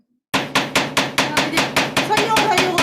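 Wooden hammers striking repeatedly during a group woodworking class assembling a solid-wood storage cabinet, about a dozen sharp, evenly spaced blows that begin after a brief silence and grow denser toward the end.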